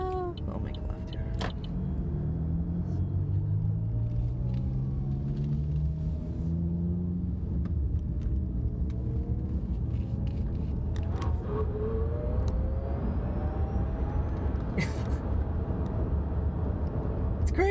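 Chevrolet Bolt electric car accelerating on a road, a steady low rumble of tire and road noise with rising whine tones sweeping upward, heard from inside the cabin with faint murmured talk.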